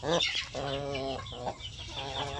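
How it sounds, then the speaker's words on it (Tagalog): A Basilan native rooster clucking close by, a run of short harmonic clucks and throaty calls in quick succession, fairly loud, with no one talking. "So yan po ang ginagamit ko na roster na basilan yan."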